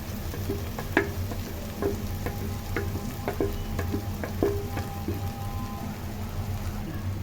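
Beaten egg is tipped into an onion-tomato masala and fried, with a steady close sizzle and repeated sharp scrapes and taps of a spatula stirring the pan throughout.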